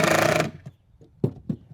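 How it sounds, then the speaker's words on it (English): A power driver sets screws into the leg of a folding low workbench, a short buzzing burst followed by a few faint brief clicks and knocks, close and quiet. "And then I will get all 3 screws in."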